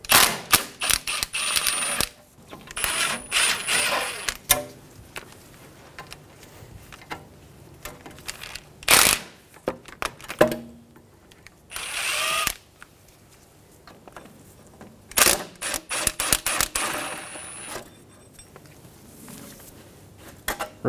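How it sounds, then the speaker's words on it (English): Ratcheting clicks and metallic mechanism sounds from an 8 mm socket wrench backing out the three backing plate bolts on a 2007-2017 Ford Expedition front wheel hub, in several short bursts separated by pauses. "Using an 8 millimeter socket, remove the 3 bolts for the backing plate."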